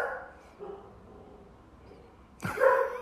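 A dog gives one sharp, loud bark near the end, after a few seconds of faint indoor background with soft, distant noises.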